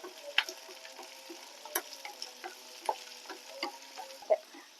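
Onions and spices with curry leaves fry in a pan for a dried shrimp roast, giving a soft steady sizzle broken by scattered crackles and several light stirring scrapes, fairly quiet and close, with no talking.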